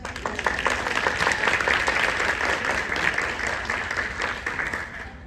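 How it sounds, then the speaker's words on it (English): Audience applause at a panel discussion on rights of nature for waterways, a dense, steady clapping that stays loud and even throughout before tapering slightly at the end. "We'll give them a round of applause."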